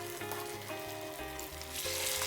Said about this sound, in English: So I'm gonna put each of my arepas in this pan